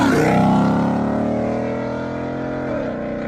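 A Dodge Charger Scat Pack with catless mids and a straight-pipe exhaust, a loud close roar under throttle that sustains, then eases slightly and shifts pitch near the end.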